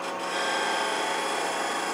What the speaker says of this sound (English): Anchor the tool. Ride the bevel, rotate it until it cuts.